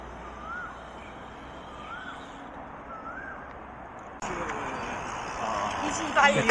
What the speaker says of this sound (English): You can see that bird.